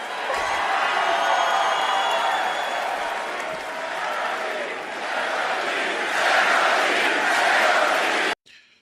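A large wrestling arena crowd cheers and roars continuously, swelling louder toward the end before cutting off abruptly.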